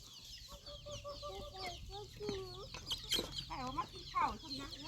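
Several chickens cluck and chatter nearby in overlapping bursts, with short rising calls over a steady farmyard background.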